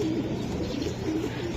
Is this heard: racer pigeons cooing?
yes